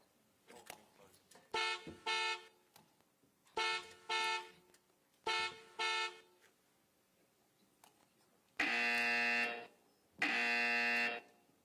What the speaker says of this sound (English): Let's start with buzzer test one more time.